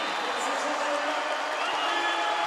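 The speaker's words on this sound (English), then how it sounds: "listen to this crowd" Crowd in a basketball arena during an under-19 game between Switzerland and France roars and cheers in a dense, steady wash of noise that carries throughout without a break.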